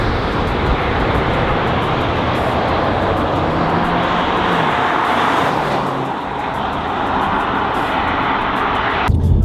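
A Mazda 3 Turbo launches hard, heard from outside the car as a loud, sustained engine roar and road rush that holds steady for several seconds, dips briefly, then swells again before cutting off.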